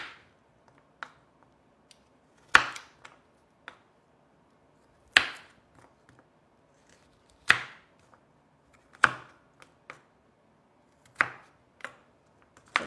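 A knife chops carrots into halves on a board, giving about eight crisp, separate thunks spaced a couple of seconds apart with faint handling sounds between them, close and clear in a quiet kitchen.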